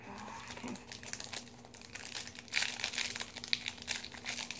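A 2017 Topps Walking Dead Season Six trading card pack wrapper being torn open and crumpled, producing faint, close crinkling and rustling that grows a little busier partway through, with no speech.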